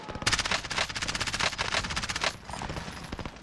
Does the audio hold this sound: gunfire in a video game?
yes